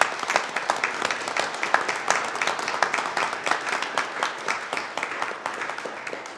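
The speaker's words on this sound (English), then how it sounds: "So let's give them one more round of applause" Applause at a city council meeting, a steady patter of many hands clapping from a seated crowd, sustained and fairly even at moderate distance.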